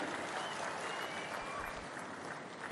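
An audience applauds at a meeting, with a steady patter of many hands clapping together that holds evenly throughout and swells slightly at the very end.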